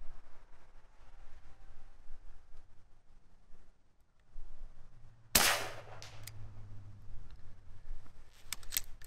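A single sharp crack from an AEA HP Max .30 caliber air rifle firing a pellet toward a 100-yard target, loud and abrupt midway, with faint rustling ambience around it.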